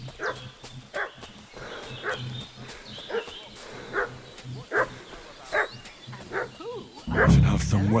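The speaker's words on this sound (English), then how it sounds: "What's that dog making such a fuss about?" A dog barks in a rhythmic series of steady, mid-distance barks in the medieval video game Kingdom Come: Deliverance II, set against ambient game sound, with a louder rumbling burst at the end.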